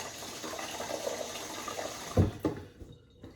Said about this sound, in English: Let me dump the water again because it still had the old water